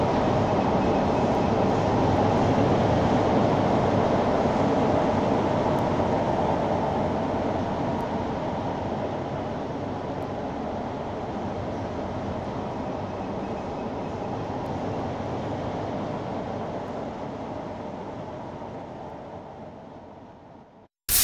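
Minecraft automatic metro on the Lake Loop line running steadily, a continuous rumbling train roar with faint clickety-clack, loud and near throughout, fading slightly toward the end with no talk.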